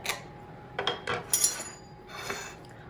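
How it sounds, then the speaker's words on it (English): Knife or server cutting into a low carb faux Meyer lemon pie, a few soft scraping taps and clinks of metal against the dish, close and quiet, with no voices. "we're going to cut into this silky smooth pie here"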